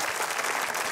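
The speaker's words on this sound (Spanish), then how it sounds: "Aplauso para Gustavo Munguía" Audience at a Mexican comedy show breaks into dense, sustained applause, loud and close, a continuous wash of clapping with no pause.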